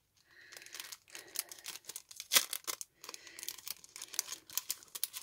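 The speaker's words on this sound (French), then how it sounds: "Je vais le déballer." Plastic advent calendar packaging crinkles and tears as an acrylic word is unwrapped, with close, irregular rustling and a sharp rip in the middle.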